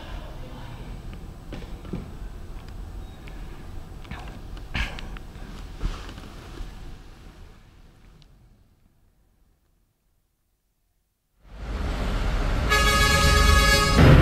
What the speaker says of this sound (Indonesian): Kemacetan terus mengular seiring meningkatnya truk yang terus mendatangi kawasan Pelabuhan Tanjung Priok untuk melakukan aktivitas